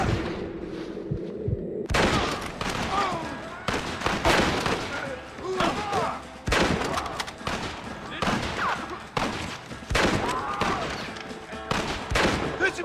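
Gunfire in the video game Red Dead Redemption, a rapid fusillade of loud, sharp shots and bursts in irregular volleys, with shouting voices mixed in.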